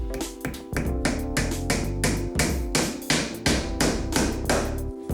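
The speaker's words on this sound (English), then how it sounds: "I'm gonna put the first nail in just to hold it in place." Hammer strikes driving a nail through pine and MDF, a fast run of sharp, close metallic taps in an uneven rhythm, each ringing briefly, with no talk.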